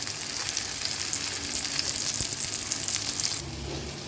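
Mutton tawa fry cooks on a low flame with a continuous, even sizzle and crackle. Near the end the sizzle drops slightly in brightness, and there is no speech.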